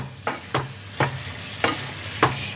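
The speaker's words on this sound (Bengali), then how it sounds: "এবার সব কিছুকে মশলার সাথে ভালোভাবে একটু মিশিয়ে নিতে হবে" Fried potato and cauliflower being stirred into spices in a pan, five distinct scraping strokes at a steady rhythm over a low background sizzle, close and fairly loud with no voices.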